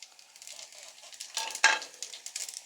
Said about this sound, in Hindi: बस हमने इतना इसको फ्राई करना है जब तक इसकी खुशबू ना आ जाए।